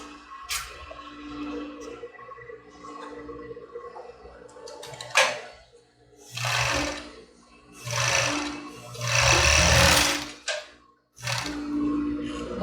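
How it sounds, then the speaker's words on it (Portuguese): A sewing machine stitches a padded foam bra cup in several short bursts of mechanical whirring, each a few seconds long and separated by pauses, close and moderately loud. "Agora eu vou costurar aqui novamente, onde ficou sem pegar."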